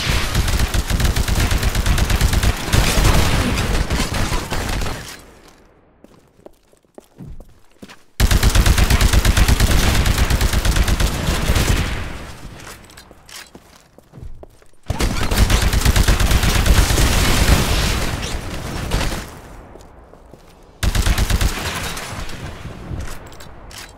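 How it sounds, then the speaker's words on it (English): Anti-Titan weapon firing at a Titan in the Titanfall video game, loud sustained bursts of heavy gunfire and explosions in three long waves separated by brief quieter lulls, no talking. "Destroy the Titan with your anti-Titan weapon."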